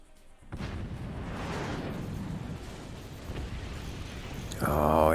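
Howitzer artillery fire and explosions in the physics-based strategy game Forts, a sustained roaring barrage of booms and crackling blasts followed by a sharp louder burst at the end.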